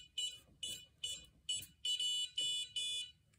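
Liberty gun safe keypad malfunctioning, giving error beeps: seven short, shrill electronic beeps in an even rhythm, close and clear against a quiet room.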